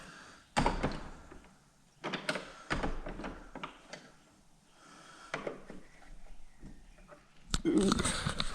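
An old church door is tried and opened, giving several wooden knocks, thuds and rattles spread over a few seconds, followed by a louder creaking open near the end, close by with faint room ambience.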